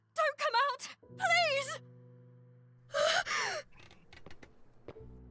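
A sharp, breathy gasp voiced by a performer during a dramatic spoken-word story, among other strained, groaning vocal sounds, close and loud.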